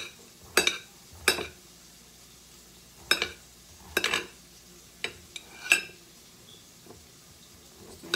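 Zucchini stirred in a hot fish pan: a few separate scraping, clattering strokes of a utensil against the pan, spaced a second or so apart over a faint sizzle.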